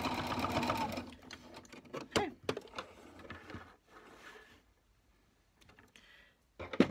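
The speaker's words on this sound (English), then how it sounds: "Back stitch stitch over the pleats, and then back stitch at the end." Back-and-forth stitching over the pleats of a lined face mask on a sewing machine, opening with a rapid motor run, then short stops, clicks and brief restarts.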